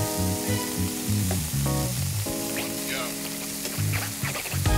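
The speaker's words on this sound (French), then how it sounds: "Je fais revenir donc mes crevettes. Ça sent super bon avec le gingembre et le citron confit." Shrimp sizzle steadily in a pan with ginger and preserved lemon, a close, continuous frying crackle with clinks of utensils and a few stirring sounds, under background music.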